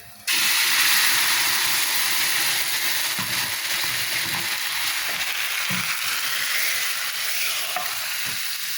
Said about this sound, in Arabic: فص التوم اتحمر اهو